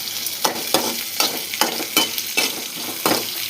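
Small onions sautéing in a pan for a Tamil egg podi dish give a continuous close sizzle, broken by regular scraping strokes of a spatula about every half second.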